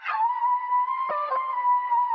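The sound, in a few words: reversed, chopped and pitched vocal sample with effects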